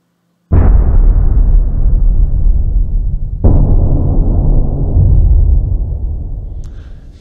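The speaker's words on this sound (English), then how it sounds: "let's now go to the Easter Island drums. These are huge low impact hits." Easter Island drums played in Cubase, two huge low booming impact hits about three seconds apart, each ringing out with a long rumbling decay, loud and alone.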